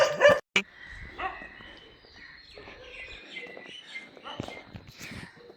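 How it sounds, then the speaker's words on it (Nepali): A dog barks sharply and loud twice at the very start, close by, on a street during a night walk near a temple. Fainter yelps follow while people talk quietly. "कुकुरले खेलाएर बिच बाटोमा भिडियो खिच्दा खिच्दै रोक्नु पर्यो"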